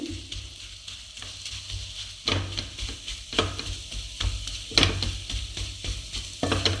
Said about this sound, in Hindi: इसे हमें भूनना है। तो इसे लो टू मीडियम फ्लेम पर ही भुने ताकि ये जले नहीं।